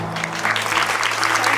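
Loud, steady applause from a crowd at a Turkish engagement ceremony as the rings are placed, with faint voices mixed in beneath the clapping.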